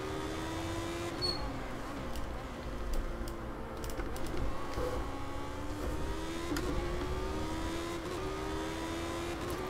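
A race car runs on a track with its engine droning steadily and shifting pitch throughout, loud and close, with no speech over it.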